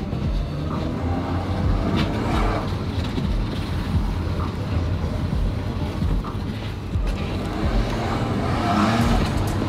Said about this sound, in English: have a listen to what you heard from the exhaust